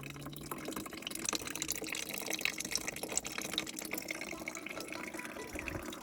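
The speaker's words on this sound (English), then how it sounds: "Just waiting for the rest of this radiator to drain." Coolant drains from the radiator of a car with a G23 VTEC engine swap during a build, a faint, continuous trickle and splash of liquid with no pauses.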